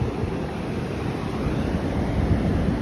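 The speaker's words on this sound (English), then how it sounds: "Here comes the wave." Ocean surf breaks and washes along a Tasmanian shore, a steady, full roar of churning water and wind buffeting the microphone for the whole stretch, with no voices.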